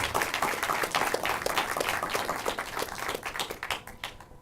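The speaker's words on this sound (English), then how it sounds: "So please give them a round of applause." An audience at a local film festival awards event claps for the festival volunteers, a moderately loud patter of hands that thins and fades toward the end.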